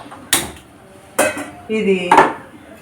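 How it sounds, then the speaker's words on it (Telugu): A metal cooking pot is set down on a kitchen stove for making jaggery syrup, giving three sharp clanks about a second apart, close and loud. "ఇప్పుడు గిన్నె దీని మీద పెట్టుకుని స్టవ్ వెలిగించుకుని"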